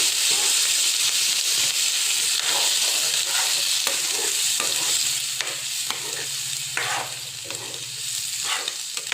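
Tora shoots being stirred as they fry in a pan, a steady close sizzle and hiss with repeated scraping strokes of the stirring utensil throughout.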